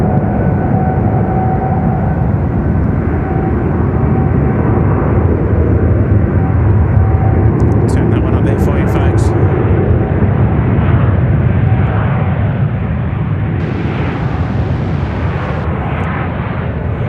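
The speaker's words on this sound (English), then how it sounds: "The Singapore triple, she'll probably rotate around the taxiway kilo area, maybe even the crossing runway." Singapore Airlines Boeing 777 jet on its takeoff roll at Sydney Airport, a loud, steady, broadband engine roar that persists throughout with no gaps, heard from the spotting position.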